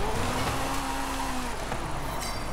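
In Forza Horizon 5, a Ferrari F40 brakes hard into a turn, a rough engine note and a thin squealing tone sliding downward before fading, all fairly quiet and continuous.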